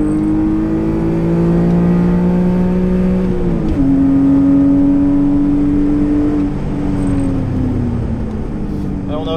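A car accelerates hard through a lap, its engine revving and climbing in pitch, dipping on a gear change, then rising again, loud and close with a steady interior drone throughout.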